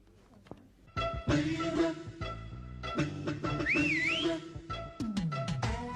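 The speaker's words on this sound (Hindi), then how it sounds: "अरे ये सीटी किसने बजाई?" A person whistles in a comedy film scene, with sharp wavering sweeps rising and falling over bustling background music, loud and close.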